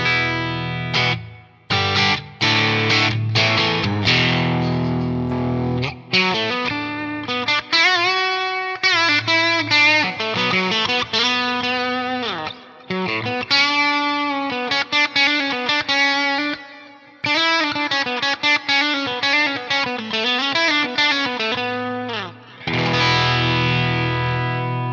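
An electric guitar with distortion and a delay effect plays a lead line of sustained, driven notes and quick runs with brief gaps, the repeats faintly trailing behind the playing.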